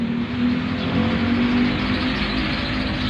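A stock-size electric fan motor with its original rotor and core, running at 1760 RPM, gives a steady, continuous hum with a constant low tone and broadband whir, holding at an even loudness throughout.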